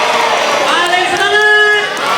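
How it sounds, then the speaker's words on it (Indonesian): A hall full of students at an Indonesian madrasah clapping and shouting together, a loud, close burst of massed cheering with excited high voices rising over the applause. "Tepuk tangan sambil teriak ye"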